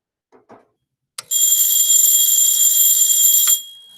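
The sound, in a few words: electric doorbell ringing, hammer striking bell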